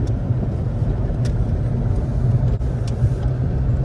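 The interior of a car on a test drive, which has a suspected steering fault and an engine that jerks, fills with a steady low road and engine rumble, broken by a few faint clicks.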